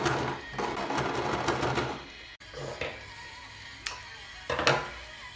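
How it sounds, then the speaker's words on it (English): Sewing machine running top stitching along cosplay welt pocket pieces, a dense steady whir for about two seconds, then a pause and shorter bursts of stitching with small clicks, close and fairly loud. "finishing it with a top stitch so that everything lies flat."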